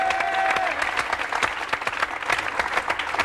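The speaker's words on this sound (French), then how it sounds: "grâce à vos élèves, qu'on va d'ailleurs applaudir encore une fois." A studio audience applauds music students on a television show, with sharp individual claps standing out against a full rolling burst of clapping. A brief tone sounds at the start.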